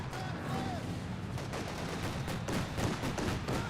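A Maxim machine gun firing in Company of Heroes 2, heard as rapid repeated gunshot bursts inside a busy battle with scattered other rifle fire, loud and continuous through the whole stretch.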